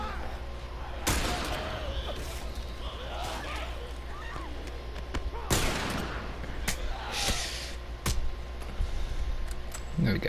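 Gunshots ring out while fighting infected in The Last of Us Part II, a few sharp, separated cracks over a steady game ambience, with a person talking throughout.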